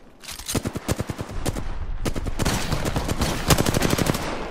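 Gunfire in the video game Apex Legends, with rapid bursts of automatic shots crackling in quick succession, loud and sustained with overlapping reports and little pause.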